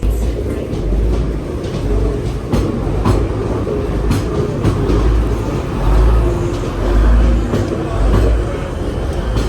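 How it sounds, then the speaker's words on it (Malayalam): A train arriving at Manchester Airport station, a loud rumbling roll with rhythmic clicks and clacks of wheels over rail joints and swelling low-end surges, heard from on board. "ഇത് മാഞ്ചസ്റ്റർ എയർപോർട്ടിൽ ട്രെയിൻ വന്ന് നമ്മൾ എത്തുന്ന സ്റ്റേഷനാണ്."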